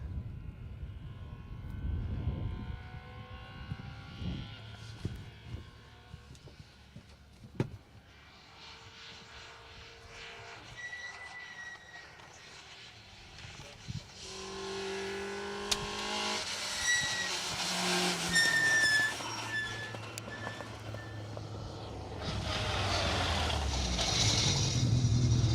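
A new-build Ford Escort rally car races an asphalt stage at the Tour of Epynt 2024. Its engine revs rise and fall through gear changes and grows louder and more sustained toward the end.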